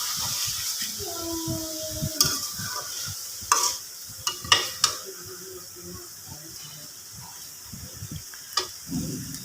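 Chicken pieces sautéing with spices in a pan, a soft steady sizzle under faint background speech and music, with occasional sharp clinks and scrapes of a utensil against the pan.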